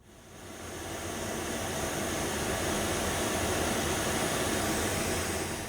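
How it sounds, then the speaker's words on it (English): Pink noise test signal playing through a small desktop speaker, a steady broadband hiss that swells in over the first second and then holds level and loud. "you should be able to hear the pink noise coming through the speaker"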